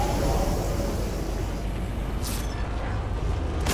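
A car in the video game Fortnite, a loud steady engine and road rumble with a brief hiss or air-brake-like burst partway through.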